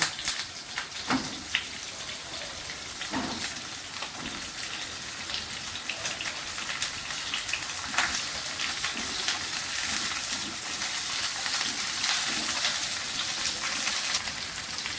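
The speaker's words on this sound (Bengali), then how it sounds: "আমি পটল দিচ্ছি কটা, একসঙ্গে ভেজে নেব।" Pointed gourd (potol) fries in a pan with a dense, steady sizzle and crackle like light rain, and small pops scattered throughout.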